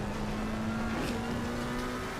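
A McLaren race car in a racing video game drones with a steady engine tone that holds a near-constant pitch, moderately loud and continuous over a rushing background, with no talking.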